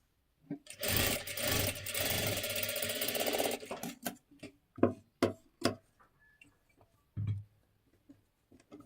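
A sewing machine runs in a fast, steady stitching burst along a fabric edge for about three seconds, then stops, followed by scattered clicks and taps of the machine being handled.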